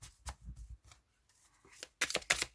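Tarot cards being shuffled by hand in quiet bursts of riffling and sliding, with a denser, louder flurry of card flicks near the end.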